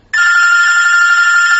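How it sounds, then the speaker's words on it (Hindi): A telephone rings with one loud, steady electronic trill that starts abruptly and holds without a break, with no other sound around it. "फोन बज उठता है।"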